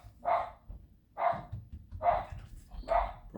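A dog barks four times at an even, unhurried pace, each bark close and fairly loud, with quiet background noise between them.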